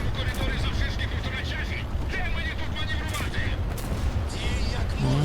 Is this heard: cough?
no